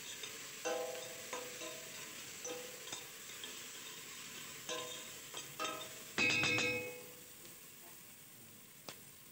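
Onions with pepper and dried lemon are stirred in a pan for chicken kabsa, with a soft sizzle beneath scattered scrapes and clinks of the spoon against the pan and one louder clatter.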